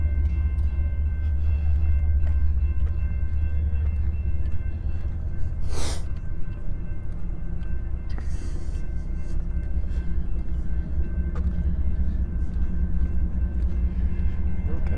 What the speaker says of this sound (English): Here comes the train that I just beat.